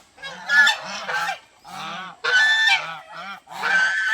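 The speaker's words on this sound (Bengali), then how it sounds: "এই যে এগুলো আমাদের রাজহাঁস, এগুলো ডিম পাড়ার সময় এসে গেছে" Domestic geese, a flock kept for laying eggs on a farm, honk loudly and repeatedly in close, overlapping bursts with brief pauses between calls.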